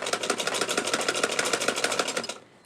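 A sewing machine stitches along folded fabric for a baby girl's ruffle top, a fast, steady run of even mechanical clatter that stops abruptly near the end, with no voices.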